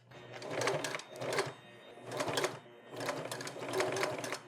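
A sewing machine stitches bias-cut fabric binding onto a homemade Halloween mask, running in four close, steady bursts of whirring needle clatter separated by brief pauses.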